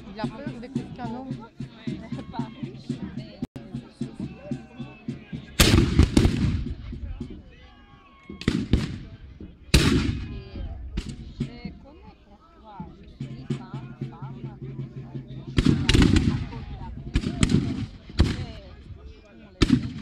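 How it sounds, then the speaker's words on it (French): Several heavy booming cannon blasts at a historical reenactment bivouac in Reims, spaced irregularly, ring out with rolling echoes while people chatter throughout. "Il a peur des coups de canon."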